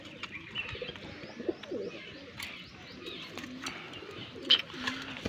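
Kept pigeons give soft, intermittent coos against a low, murmuring background, with occasional faint chirps and small knocks nearby.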